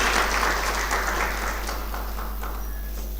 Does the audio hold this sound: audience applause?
yes